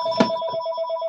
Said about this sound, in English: Ignore my phone.